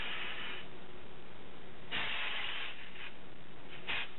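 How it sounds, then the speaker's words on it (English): Auburn hair color spray hisses onto a wig in a steady close burst, followed by two shorter squirts near the end, with no voices. "I'm just going to spray some auburn tips on her"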